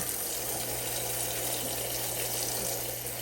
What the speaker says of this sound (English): and as you see, running more water